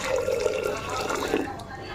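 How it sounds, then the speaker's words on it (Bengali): Hot water is poured into a pot of cooked dal, making a continuous splashing, trickling flow for about two seconds before it tapers off. "এখন একটু গরম জল মিলিয়ে দিই"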